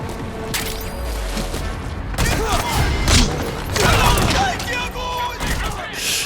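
Bursts of gunfire while shooting enemies in Metal Gear Solid V, loud repeated shots and thumps over continuous game noise, with a voice briefly heard.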